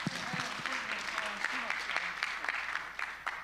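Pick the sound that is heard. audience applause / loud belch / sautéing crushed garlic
audience applause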